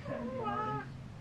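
A house cat gives a single drawn-out meow with a rising and falling pitch, fairly close, over a quiet room background.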